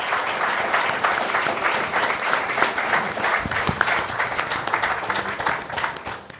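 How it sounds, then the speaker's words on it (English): A conference audience gives a steady round of applause for panelists at a sports and physical activity event, dense clapping filling the room at an even level throughout. "Please, a round of applause."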